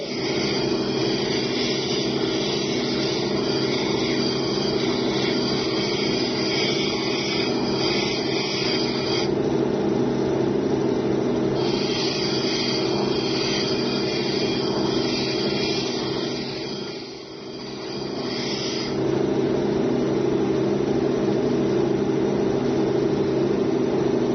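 A quieter polishing wheel works a jade pendant, giving a steady, even whirring hum with a faint high whine that drops out and returns, and briefly dips near the end, with no talking.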